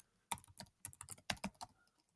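Keys clatter on a computer keyboard while editing text in the Emacs editor, a quick burst of about ten crisp, close keystrokes with nothing else heard.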